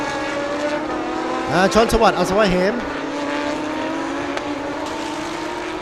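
A Lamborghini GT3 race car at a Thai circuit race, its engine whining in a long steady tone and briefly warbling through rapid revs, moderately near, under a commentator's voice.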